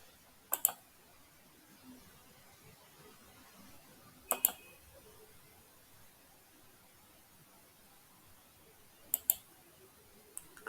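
A computer mouse clicks in faint, sparse pairs at roughly four-second intervals over quiet background hiss, with no speech between the clicks.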